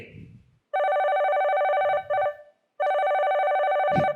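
An old-style telephone bell rings loudly in two long bursts, with brief voices and noise just before and between the rings.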